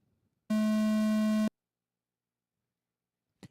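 A single steady electronic start tone for a 1/8 electric offroad RC truck race sounds loudly for about one second, a pure buzzing beep with strong harmonics, followed by silence and a faint brief knock.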